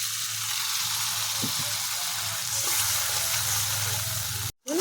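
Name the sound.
spice paste frying with a little water added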